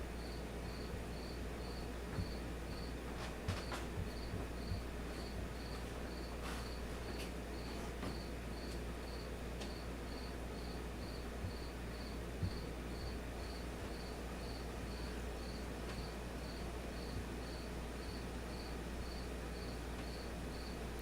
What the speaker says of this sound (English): cricket chirping, sorry.